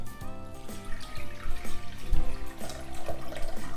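Twelve ounces of lukewarm water pours steadily into a bowl for focaccia dough, a continuous splashing, gurgling stream heard up close with no talking.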